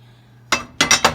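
Metal cookware, a pot and pan sized for single portions, is handled after a short quiet stretch: four close, loud clanks and clinks, the last three in quick succession, with no voices.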